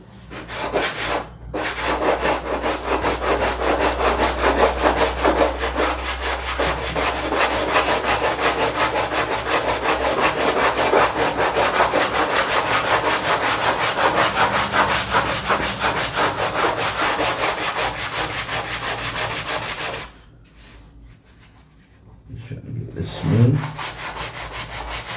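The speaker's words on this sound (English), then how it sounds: "you can just come back over with 220, 320, 400 grit sandpaper" Sandpaper rubs across balsa wood on a giant scale model plane's horizontal stabilizer in a long, continuous, close scratching hiss, pausing briefly near the end before resuming.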